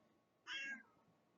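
A house cat gives a single short, high meow, faint against a quiet indoor background, with no voices.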